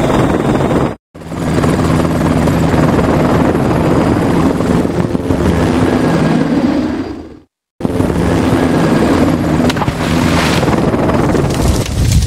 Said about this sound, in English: The engine makes the rotors of a helicopter turn.